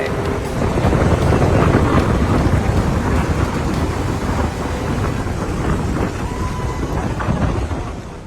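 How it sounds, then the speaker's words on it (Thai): A storm at sea during a long open-water swim roars steadily with loud wind buffeting and rushing rain, a dense continuous wash with deep rumbles that ebbs slightly at the end. "แล้วเราก็เจอพายุจนได้"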